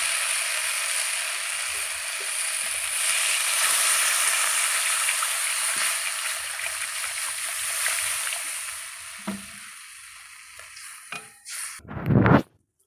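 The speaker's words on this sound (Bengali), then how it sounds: "ধনেপাতাটা দিয়ে আর বেশি নাড়বো না, এবার আমি জল দিয়ে দেবো।" Water poured into a pan of simmering fish curry with potato, aubergine and beans, a steady hissing pour with sizzle for several seconds, fading out, then a short clatter at the end.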